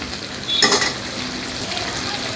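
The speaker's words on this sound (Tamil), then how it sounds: "மிளகு சீரகம் போட்டு ஒரு கிண்டு கிண்டி" Crab gravy with pepper and cumin is stirred in a pan over a steady sizzle, with one brief, louder scrape of the utensil partway through.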